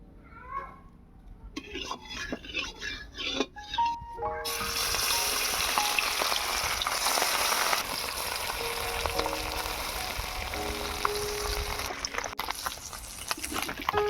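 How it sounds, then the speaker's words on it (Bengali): Pool barb (puti fish) rubbed with salt and turmeric are dropped into hot oil, and a loud, dense frying hiss starts partway through and keeps going to the end, with some clatter and faint voices before it. "এবারে মাছগুলো ভেজে নেব।"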